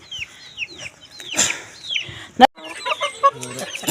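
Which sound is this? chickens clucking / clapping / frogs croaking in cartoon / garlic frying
chickens clucking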